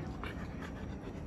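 A dog pants close by in short, rapid, breathy huffs, a steady quick rhythm in a quiet room.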